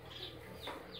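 A backyard chicken gives a few faint clucks over a steady low background hum, with short calls scattered through the moment.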